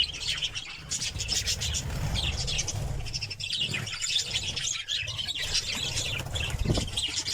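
A sick bird flaps its wings during treatment, a soft, rustling flutter that runs steadily throughout, close by, with faint chirps mixed in and no talking.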